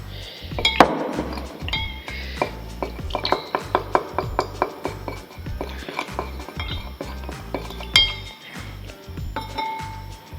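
Glass clinking rhythmically as pH calibration solution is stirred in a glass for hydroponics, a quick series of bright taps with a few louder strikes, close up, with some quiet talking.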